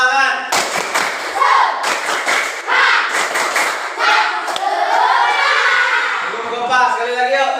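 A classroom of children performs a rhythmic group clap in short bursts of sharp claps. Loud chanted voices run under and between the claps, and the whole passage is lively and fairly close.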